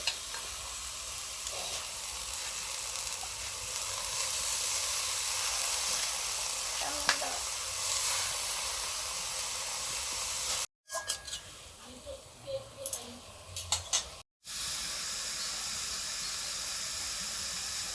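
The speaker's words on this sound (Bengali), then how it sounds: "বাঁধাকপির গোড়া করার জন্য বাঁধাকপিটা সেদ্ধ করে নিচ্ছি" Cabbage boils in a pot on a stove, giving a steady, close bubbling hiss that runs without pause except for two brief dropouts near the end.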